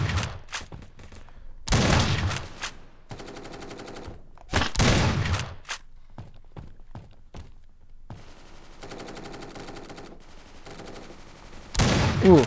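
Sharp gunshots from the Standoff 2 game, including AWM sniper rifle fire, come in separate loud cracks and short clusters with quiet gaps between them, and a final burst at the end.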